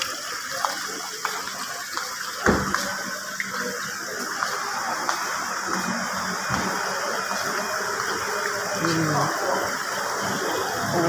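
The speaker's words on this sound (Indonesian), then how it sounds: "Buat pancuran kecil." A small fountain splashes steadily into a compact decorative pond beside a seating area at a car dealership showroom, a continuous close wash of falling water with people talking faintly over it.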